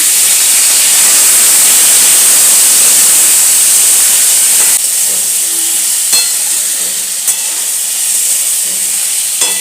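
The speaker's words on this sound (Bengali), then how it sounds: "আলুটা দিয়ে দিলাম" Potatoes added to hot oil with already-fried pointed gourd, giving a loud, steady hiss of frying that eases slightly after a few seconds, with a few light clicks.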